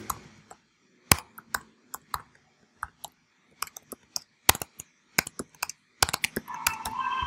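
Someone types on a computer keyboard: sparse, crisp key clicks, close and irregular, with a quicker cluster near the end and no talk.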